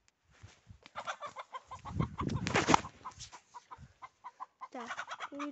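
A chicken in a survival video game gives a run of short, clipped clucks, building to a denser flurry midway and then returning to sparse, evenly spaced clucks. No one speaks.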